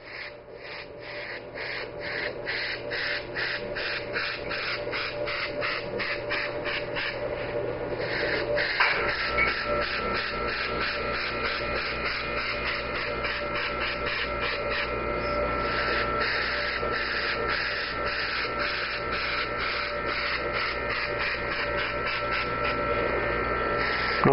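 Airbrush spraying paint in smooth, even strokes, a steady close hiss of compressed air that runs continuously with slight shifts in tone, alone and without talk.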